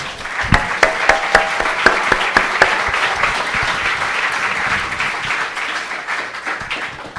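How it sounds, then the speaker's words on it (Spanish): A church congregation applauds together, sustained clapping with sharp individual claps standing out, loud and close, with no one speaking over it. "Démosle un aplauso al Señor, hermano."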